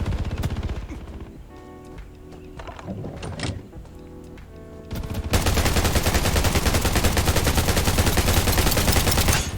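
In the game Undawn, gunfire is aimed at a level 5 turret, with scattered shots and thuds followed by loud, sustained rapid automatic fire that fills the second half.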